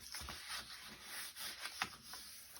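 Scored paper being folded for a Christmas gift gives soft, close rubbing and creasing sounds, with a few brief crisp scrapes and no voices.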